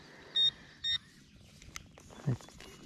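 Two short, bright electronic beeps from a metal detector sound in quick succession as it signals a buried target outdoors, followed by faint clicks and a soft thump.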